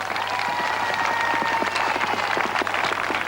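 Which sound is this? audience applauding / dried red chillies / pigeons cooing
audience applauding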